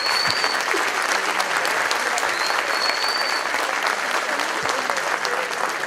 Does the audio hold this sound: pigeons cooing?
no